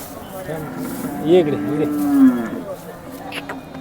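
A Jersey cow moos loudly nearby, a drawn-out low call, against a busy outdoor background of murmuring voices at a cattle market in Sangola.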